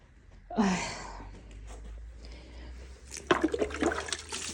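Settled water poured onto fig plants inside a greenhouse, two soft splashing bursts, one early and a longer one near the end, heard fairly close against a quiet background.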